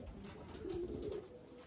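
Homing pigeons cooing softly, with a low throaty coo in the middle of a faint, quiet outdoor scene.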